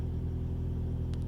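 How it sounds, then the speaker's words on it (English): Low, steady engine rumble from a loud car, a continuous throbbing drone heard from inside, fairly quiet overall with no speech over it. "My car is being very loud."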